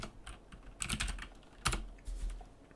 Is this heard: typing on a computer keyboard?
yes